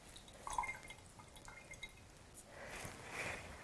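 Herbal honey pours slowly out of a jar, giving faint, soft liquid drips and a thin trickle, quiet and close with no talking.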